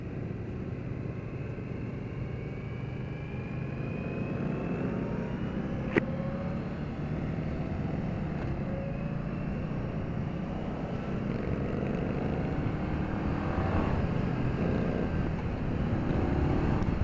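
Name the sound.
2015 Indian Scout motorcycle engine revving during test ride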